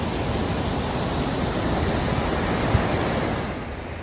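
Thin waterfalls pour down rock crevices in a Norwegian valley, making a steady, broadband rushing roar that stays constant and fairly loud with no voices.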